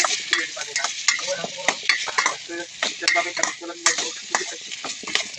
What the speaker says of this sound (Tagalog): igisa muna natin itong kikiam